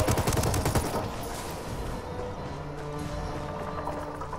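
Enemy gunfire in the Ghost Recon video game, a dense burst of rapid shots loudest at the start, then continuing as lighter scattered fire under a steady background din.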